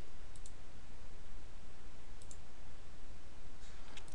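Sparse, faint mouse clicks while a polygon lasso selection is traced in an image editor, a few isolated taps spread across the span over a steady background hiss, no voices.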